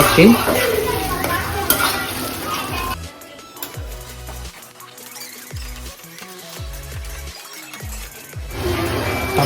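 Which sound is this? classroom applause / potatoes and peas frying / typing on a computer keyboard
potatoes and peas frying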